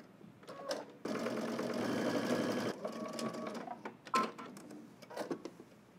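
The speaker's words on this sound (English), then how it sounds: "we're going to head to the machine and we're just going to stitch this down from dot to dot" A sewing machine stitches a fabric seam from dot to dot along a guideline for a Simplicity S3038 pattern, running in a steady continuous burst for about two seconds, then short stops and starts with clicks and handling noises.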